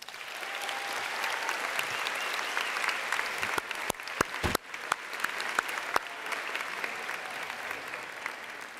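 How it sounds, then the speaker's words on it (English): A graduation audience at Wootton High School applauds the parents: a large crowd's steady, dense clapping holds at an even level throughout, broken only by a few sharp, louder claps near the middle. "So graduates, applause for those parents."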